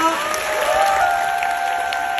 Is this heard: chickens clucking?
no